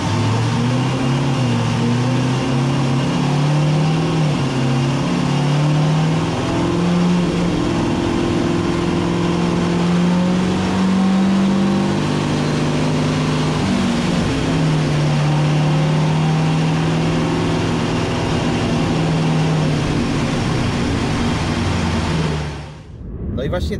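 BMW E92 with a bi-turbo 7.0 L V8 on a dynamometer, held under loud sustained load for over twenty seconds, its deep drone shifting pitch as revs climb, then cutting off abruptly at the end.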